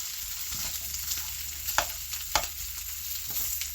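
Butter-coated boiled potatoes fry in a pan with a broad, steady sizzle, broken by a few clattering spoon stirs and scrapes.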